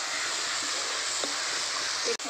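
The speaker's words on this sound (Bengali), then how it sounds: "এবার জল দিয়ে ভালো করে মশলা কষিয়ে নেব।" Spices cooking in a pan with a little water give off a steady close sizzle and bubbling hiss, with a couple of faint stirring knocks near the end.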